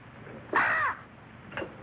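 A single loud, close crow caw, one harsh drawn-out call followed by a fainter, shorter one, in a 1950 film scene.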